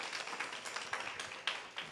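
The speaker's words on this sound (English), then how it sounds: "Please give a round of applause for Bhuvan as well on the tabla." An audience at a temple cultural concert claps after a bhajan with tabla, a soft, steady patter of many hands with a few sharper claps standing out, fairly distant and without voices.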